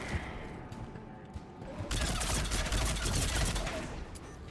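Assault rifle fire in Mass Effect 3 rattles in rapid sustained bursts, growing denser and louder in the second half amid ongoing combat noise.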